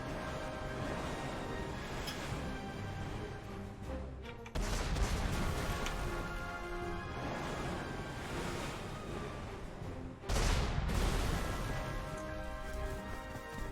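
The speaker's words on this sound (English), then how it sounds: "Oh, that naval bombardment hurts." Naval bombardment in the Panzer Corps war game lands as heavy booming blasts: two loud, sudden impacts break through a dense, rushing roar of rumbling noise, with no voices.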